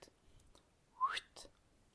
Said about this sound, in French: On fait un petit sifflement en même temps.